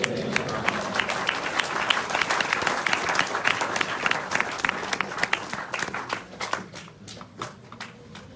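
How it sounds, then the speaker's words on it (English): Audience at a religious lecture in Australia giving a long round of applause, dense crowd clapping that gradually thins into scattered individual claps, with a voice speaking over it. "One more big round of applause for His Holiness BB Govinda Swami, everybody"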